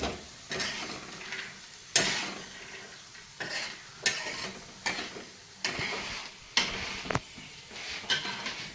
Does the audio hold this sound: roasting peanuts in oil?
yes